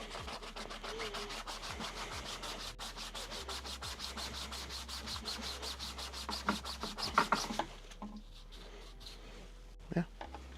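Hand sanding with 220 grit sandpaper on a filler-primed cosplay piece: steady rhythmic back-and-forth rubbing strokes, close and moderately loud, easing off toward the end with a few scattered handling knocks.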